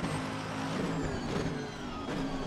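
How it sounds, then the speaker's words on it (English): A Nissan race car in Assetto Corsa Competizione emits a loud, continuous gearbox whine layered over engine roar, rising slightly in pitch as it accelerates on track. "That's not an engine you hear, that's the gearbox you hear."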